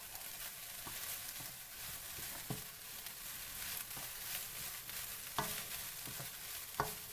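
Cantonese fried rice stir-frying in a pan over high heat gives a steady, close sizzle, broken by occasional sharp clinks and scrapes as it is stirred. No voices.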